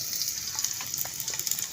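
Chopped garlic fries in hot oil in a pan, giving a steady, close hiss with small crackling pops scattered through it, and no voices over it.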